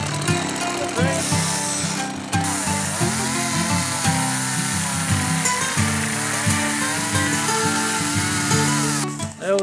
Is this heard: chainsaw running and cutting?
yes